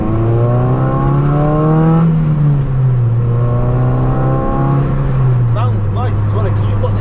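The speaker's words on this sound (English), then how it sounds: "It sounds glorious when you're really revving." A Raffo Belva sports car engine revs loud and close, its pitch climbing and falling in strong sweeps, with people talking over the roar.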